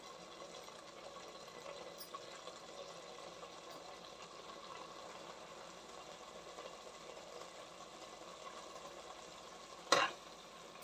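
Spiced masala frying in oil for rice bath gives a faint, even sizzle and bubbling that runs throughout without talk, with a sharp knock of a utensil near the end.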